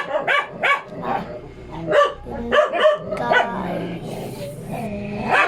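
A dog barks repeatedly in short, sharp yaps close by, mixed with whiny yips, while a person briefly speaks.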